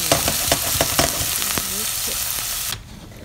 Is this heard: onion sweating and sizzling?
yes